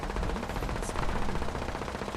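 Gunfire in the video game Fallout 76: rapid, continuous automatic bursts, loud and dense, rattling without pause through the whole moment.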